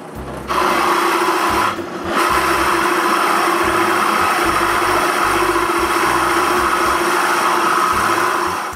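A power drill boring a hole through a stack of plywood pieces held together with double-sided tape, loud and close, a sustained whining grind with a short pause midway before resuming steadily.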